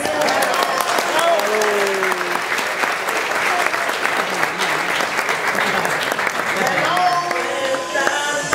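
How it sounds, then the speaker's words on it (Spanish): Large event audience applauding to welcome comedian Carlos Álvarez at a company party, dense sustained clapping filling the room with crowd voices and cheers mixed in throughout. "Quiero que reciban con un fuerte aplauso al señor Carlos Álvarez."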